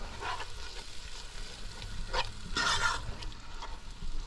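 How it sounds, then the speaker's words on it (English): Green seasoning frying in a pan gives a soft, steady sizzle with a few brighter bursts of spattering, heard close and alone without talking. "I'm going to just let this fry up for a little bit."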